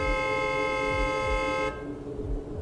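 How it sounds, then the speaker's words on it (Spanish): A sustained car horn blares loudly for under two seconds, then cuts off, leaving low traffic rumble behind. "sonó un claxon"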